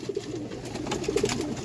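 Teddy pigeons coo close by, a few soft low throaty bursts separated by pauses, set against a steady murmur of background noise.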